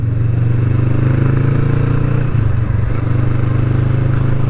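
Close and loud, a 2020 Kawasaki Vulcan S Performance motorcycle fitted with an Arrow exhaust drones steadily while being ridden, with a short dip in engine note midway and no speech.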